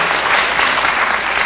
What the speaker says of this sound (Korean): 박수를 받을 일까지는 잘 모르겠는데요